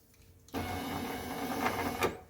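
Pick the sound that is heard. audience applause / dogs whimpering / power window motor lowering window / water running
power window motor lowering window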